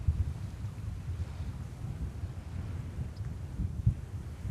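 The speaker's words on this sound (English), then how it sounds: "It's still very windy, don't get me wrong." Strong wind at JFK airport in New York rumbles and buffets the microphone in uneven low gusts, steady and fairly loud with no voices.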